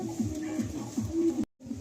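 Domestic pigeons of the Madrasi breed coo in a soft, repeated rhythmic pattern close by, several low throaty calls in succession before a brief cut to silence.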